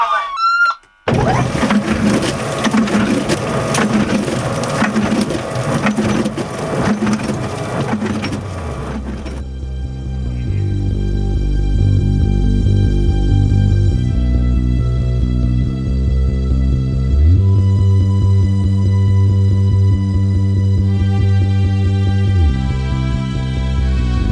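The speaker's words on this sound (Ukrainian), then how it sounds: "Запускаю комбайн." An underground coal mining combine powering up: a dense mechanical roar gives way after a few seconds to a steady, loud machine drone with layered tonal hum and shifting pitch, no voices over it.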